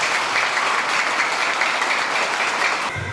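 A crowd at a Realrichlife Online Shoppe seminar in Bhagalpur, Bihar claps loudly and steadily for about three seconds before the applause cuts off abruptly.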